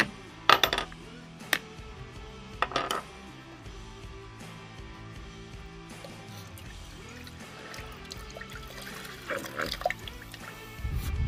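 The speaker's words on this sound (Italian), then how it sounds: "Ora noi ne apriremo due in modo da far gocciolare più facilmente" Coconut water drips and trickles in scattered drops from opened coconuts, with a few sharp clinks early on, fairly quiet against a low background hum.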